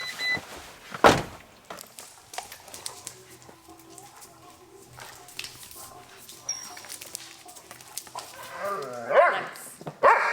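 A dog barks near a camper van in Oregon, giving a loud sharp bark early and a few more whimpery yelps and barks near the end, with scattered household noises and faint birds between.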